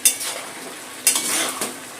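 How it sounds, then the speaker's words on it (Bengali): A utensil scrapes and stirs shrimp with snake gourd in a frying pan, with a couple of sharp clinks against the metal over a soft steady sizzle, close and alone. "এখন চিংড়ি মাছটা চিচিঙ্গার সাথে মিশিয়ে নেবো।"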